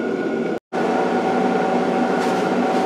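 A loud, steady electrical roar of a welder fills a workshop alongside a constant space heater hum, cutting out briefly for a split second before resuming.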